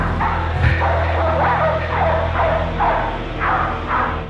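A pit bull trained for dog fighting barks repeatedly in a steady rhythm of sharp, fairly close barks over a low, constant background hum, with no talk.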